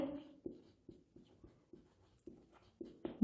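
Chalk or marker strokes on a board during a chemistry lecture on ionic solids, a run of short scratchy taps and drags at a steady pace with quiet pauses between them.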